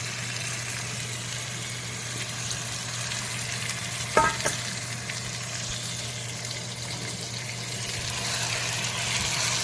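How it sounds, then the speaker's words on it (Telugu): Chicken pieces frying in a curry pan: a steady, soft sizzle runs throughout with a low hum underneath, a brief clatter of stirring around the middle, and the frying slightly louder toward the end. "ముక్కలు వేగినాయండి చికెన్ వేసాను"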